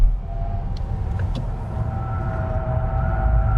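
A 2025 Lucid Air Grand Touring electric car accelerates under hard throttle, giving a steady motor whine with a rising tonal hum over road rumble, continuous and close from inside the cabin.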